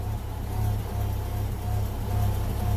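Steady low exhaust drone from a Chevy S10 pickup with a 2.2 engine and a newly replaced flex pipe, 187,000 miles, running evenly close by with a slight pulsing rhythm and no talk.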